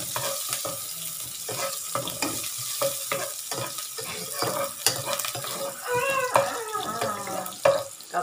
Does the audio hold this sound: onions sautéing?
yes